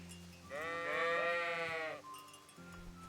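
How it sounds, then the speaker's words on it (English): A single sheep bleats clearly for about a second and a half over quiet ambient sound in the medieval game Kingdom Come: Deliverance. "Hello, sheep."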